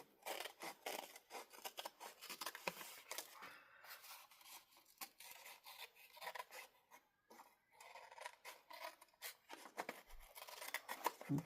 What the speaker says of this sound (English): we're going to go ahead and cut out the top part here